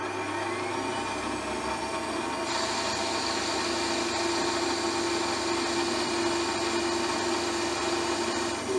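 Opti-Turn TU-2506V lathe and mill drill combination turning at 1400 RPM, a steady loud motor whine with a sustained tonal hum and faint cutting chatter, continuous and close with no talking.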